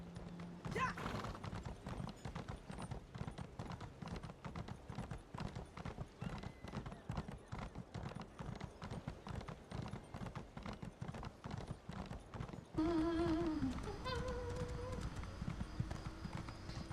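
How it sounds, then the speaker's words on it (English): Horse hooves clip-clop in a fast, steady gallop while riding in Elder Scrolls Online, a continuous rapid patter under quiet game ambience, with a brief tonal sound near the end. "So Rika rides on a horse till she reaches the tavern."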